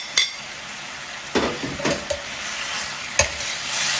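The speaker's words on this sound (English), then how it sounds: "we're going to add the shrimp back in with all of its juices" Shrimp and their juices go back into a stir-fry pan on low heat, making a soft sizzle with a few short clinks and scrapes of a utensil. Nearby, no voices.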